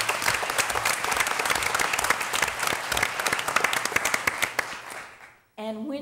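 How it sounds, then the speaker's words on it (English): A school board meeting audience breaks into steady applause, dense clapping filling the room for about five seconds before fading, followed by a brief voice. "Let's have a round of applause."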